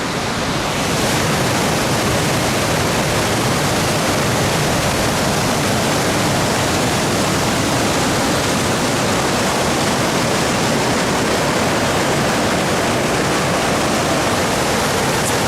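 Loud, constant roar of the Manitou River rushing over rocks in George H. Crosby-Manitou State Park, a dense wash of white noise that never lets up.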